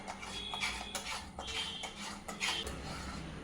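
Spoon scraping and clinking against a pan while a sugary seven cup burfi mixture is stirred, a steady run of close scrapes and light metallic taps.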